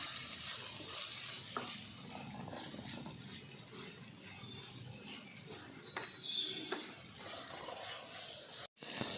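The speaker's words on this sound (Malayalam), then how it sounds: "നമുക്ക് തക്കാളി വഴട്ടിയെടുക്കാം" Tomatoes sauté in a pot over a traditional wood-fired stove for chicken curry, giving a continuous soft sizzle with occasional stirring scrapes and a sharp click near the end.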